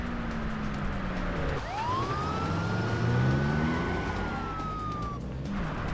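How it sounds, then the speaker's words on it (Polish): An ambulance siren in the video game Wheelman wails up into a long, sustained tone and then slides back down, over the drone of traffic and engines, with no speech. "Jest karetka."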